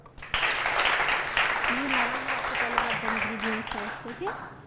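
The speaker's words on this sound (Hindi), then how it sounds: "तालियां।" An audience bursts into steady applause that carries on for several seconds while a person speaks over the clapping.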